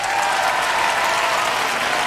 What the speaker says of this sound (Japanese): プロデューサー、素晴らしい拍手です